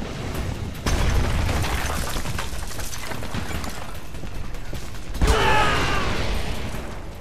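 Explosions in the shooter game Homefront: two sharp blasts, the first about a second in and a louder one later followed by a crackling, debris-filled tail, over a steady rumble of background game noise.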